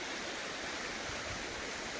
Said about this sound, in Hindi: इस तरफ ये झरना बह रहा है